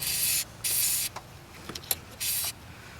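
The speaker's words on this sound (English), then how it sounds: "So we'll give that a spray." Three long hissing bursts from a spray can of lubricant onto a Mazda Miata MX-5 pop-up headlight pivot, separated by short pauses, with a few small clicks and taps in between; close and fairly loud.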